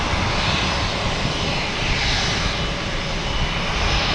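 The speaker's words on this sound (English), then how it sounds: "Next come in is a Cape Air coming in from Hyannis" A Cape Air regional flight from Hyannis landing at Boston Logan Airport: a loud, continuous engine roar with no talking.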